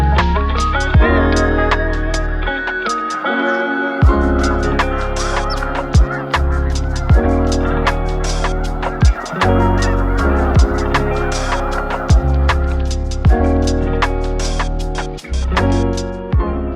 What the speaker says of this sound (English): there are thousands and thousands of snow geese here